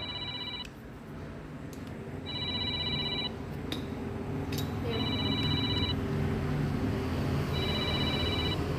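A phone rings in a motorcycle workshop with a bright electronic ringtone: short bursts of repeating beeps, about four rounds evenly spaced, over a steady background hum.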